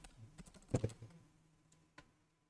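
A few quick keystrokes on a computer keyboard while typing into a LibreOffice document on Debian 12, a short burst of close, quiet clicks that trails off into near silence.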